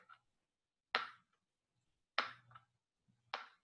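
A basketball bounces three times on a hard floor, each a sharp slap with a short trailing thud, spaced over a second apart in a quiet room.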